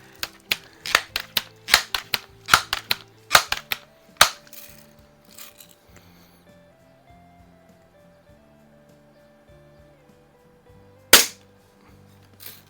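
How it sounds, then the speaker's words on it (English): A Crosman 760 air rifle firing BBs gives a string of sharp, close snapping shots, then a quieter stretch with small handling clicks and one last crisp shot. "there was one more BB here. We'll shoot that, and then we'll do some pellets."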